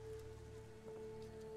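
Faint, steady rain patters in The Witcher 3: Wild Hunt at Crookback Bog, a soft continuous wash with no talking.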